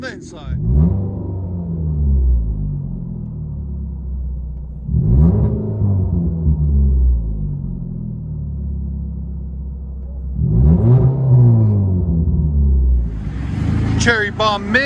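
A Ford Fusion with a Cherry Bomb mid-muffler, muffler and resonator delete and a 4-inch tip, heard from inside the cabin: a low exhaust rumble with three revs that swell and fade, with a voice near the end.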